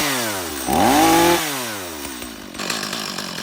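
STIHL MS250 chainsaw under repair running on its own, the engine revving up sharply, holding a high buzzing whine briefly, then dropping back to a rough idle before a short rise again.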